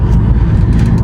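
A 1.4 car with a free-flow exhaust and a smaller back box drives along, its engine giving a loud, steady low rumble from close by, with no talking.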